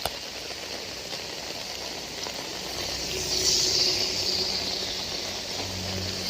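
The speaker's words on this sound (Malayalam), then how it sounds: "കറുത്ത മഴയാ." Heavy morning rain pours down in Kozhikode as a steady, dense hiss that swells slightly midway, with no voices.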